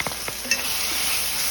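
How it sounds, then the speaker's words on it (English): Coriander and cumin stirred into a pot for a Brazilian seafood stew, a short bright sizzle with a few quick scraping strokes, close and steady. "Give a quick stir."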